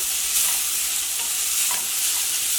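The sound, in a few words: stir-frying cabbage and carrot in a pan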